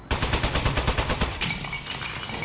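Rapid automatic turret fire in the video game Aperture Desk Job, a steady loud burst of quick repeated shots for about a second and a half, then a clattering impact and a fading mechanical rattle.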